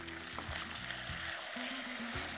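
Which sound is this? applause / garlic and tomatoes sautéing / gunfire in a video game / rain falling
garlic and tomatoes sautéing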